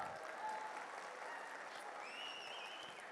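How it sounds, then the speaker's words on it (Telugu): Audience at a Chiranjeevi birthday celebration event clapping together, a dense, continuous wash of applause that holds steady and fairly distant throughout, with faint crowd murmur underneath. "ఒక్కసారి ఆయన గట్టిగా చప్పట్లు కొడదామా?"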